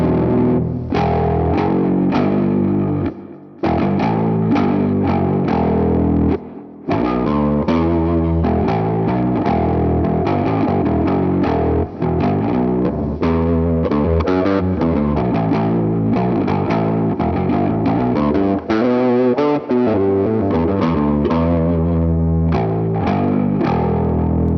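Heavily distorted electric guitar tuned to drop E through a Neural DSP Morgan amp, chugging low palm-muted riffs and ringing chords in a dense, continuous tight rhythm with brief stops, loud and up front.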